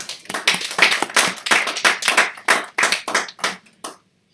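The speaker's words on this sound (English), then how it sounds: "Please can we give Laura and team a hand of applause" An audience at the launch of a government leaders report gives a round of applause: brisk, uneven hand clapping from a modest crowd, close and loud, tapering off near the end.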